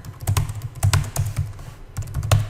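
Someone types rapidly on a computer keyboard, close and crisp, with irregular bursts of key clicks and short pauses, no speech over it.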